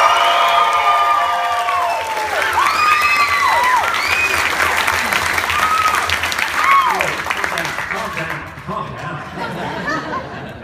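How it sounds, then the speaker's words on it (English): Audience at an Archie Comics panel at San Diego Comic-Con 2015 cheering and applauding loudly, with whoops and shouted voices over steady clapping that thins out near the end. "I always ask for a bigger cheer, but that was pretty good. But let's do it again."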